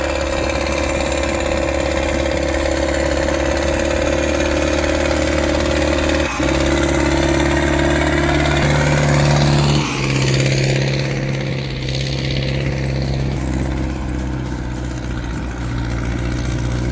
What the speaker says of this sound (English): Listen to the Zetor 7245 turbo tackle that incline.